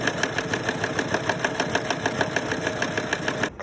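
A sewing machine stitching through fabric and lining for a ruched bust top, a steady fast mechanical chatter with even rhythmic pulses, close and alone, stopping at the very end.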